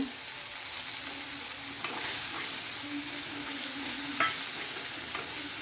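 Sour yogurt hits hot frying spices in a pan, giving a loud continuous sizzle with a few stirring scrapes, close and steady without talk.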